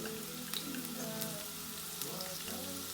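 Garlic dropped into oil already heated until reddish, for a Bengali dried bombay duck (loitka shutki) and egg dish, sizzling and frying steadily close by, with faint clinks and a soft voice briefly audible under the crackle.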